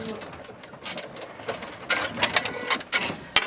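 A domestic sewing machine runs in short back-and-forth bursts, stitching over a bag strap by a buckle to lock the stitch, with a rapid mechanical whir that grows louder toward the end.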